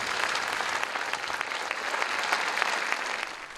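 A crowd of mourners in France applauds at a funeral tribute to cartoonist Tignous, with dense, sustained clapping that stays fairly even from start to finish.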